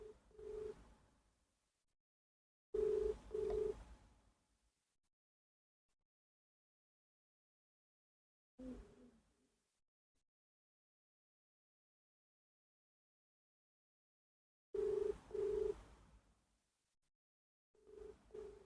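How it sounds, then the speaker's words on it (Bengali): Telephone ringback tone playing over a loudspeaker while a call goes unanswered, heard as paired low beeps that repeat in short bursts separated by long silent gaps. "রিং হচ্ছে, ফোন ধরছে না"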